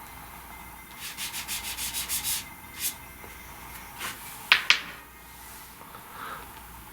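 Pastel stick rubbed onto paper in a pastel flower drawing, adding white: a quick run of about eight short, close scratchy strokes, then a few separate rubs and two sharper taps, alone with no talk.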